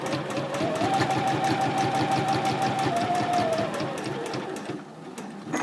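A home sewing machine stitches steadily across the bottom of a fabric purse, a rapid even chatter with a constant motor hum that slows slightly near the end, close and loud with no talk.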